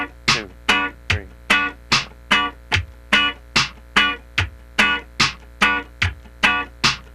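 Funk rhythm guitar plays crisp, choppy muted strums on the upbeat sixteenth, about fifteen even, percussive hits, each decaying quickly, played close and alone.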